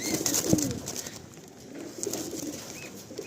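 Pigeons coo softly nearby in a rainy outdoor setting, low throaty calls rising and falling over steady background noise.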